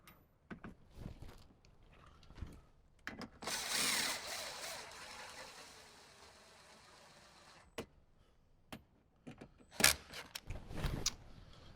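A power tool runs in short bursts driving bolts inside a 2007–2014 Jeep JK Wrangler during a speaker install, with a longer whirring run, metallic clicks and ratcheting, close by.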